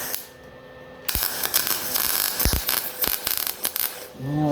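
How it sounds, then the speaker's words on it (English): Wire-feed welder laying a tack weld on an old trailer, a close crackling, sputtering buzz starting abruptly and running for about three seconds with sharp pops, then cutting off. "I'm going to put a tack weld on it"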